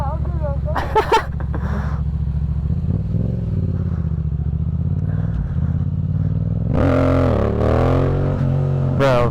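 Custom car doing a burnout on a partly wet road, a loud sustained engine drone that rises into strained revving near the end, with a voice speaking over it and brief clattering early on.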